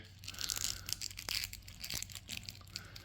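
A stiff plastic action-figure joint from an Operation: Monster Force Sleepwalker Heavy Weapons Division toy crunches and crackles as it is bent, a few close, dry clicks over faint handling rustle, without speech.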